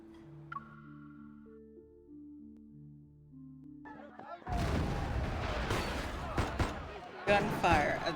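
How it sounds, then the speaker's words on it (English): In a video game, quiet sustained tones give way to a loud burst of rapid gunfire and clattering crashes of tables and chairs knocked over, continuing in dense, chaotic bursts. "Gunfire and the sound of tables and chairs getting knocked over"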